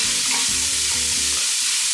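Chopped onion and garlic fry loudly in a pan for arroz con pollo, a dense, close sizzle with a few stirring scrapes under the hiss.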